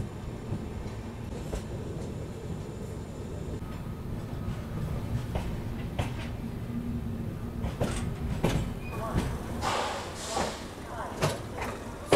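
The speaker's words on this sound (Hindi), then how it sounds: "ये देखिए भाई हमारी ट्रेन अराइव कर रही है अभी जम्मू तवी में" A train pulling into Jammu Tawi station at night, a steady low rumble with occasional clanks and rattles building toward the end, fairly close, with voices talking over it.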